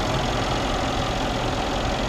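A deep, steady idle from a 5.5-liter twin-turbo V8 in a 2016 Mercedes S-Class rumbles continuously, a low throaty drone with a constant hum throughout.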